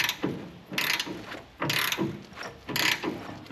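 Three loud, close bursts of ratchet clicking come with short pauses between them as a large Allen key bolt is tightened on the independent rear suspension of a classic VW Beetle. No one speaks.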